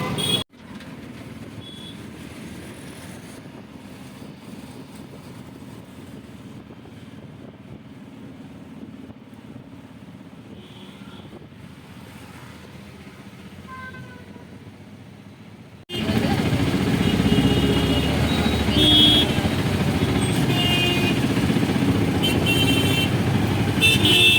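A vehicle pulls up with its engine running at a steady rumble and a short horn toot, against wind and background noise; the engine grows much louder and closer partway through.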